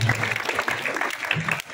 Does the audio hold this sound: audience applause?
yes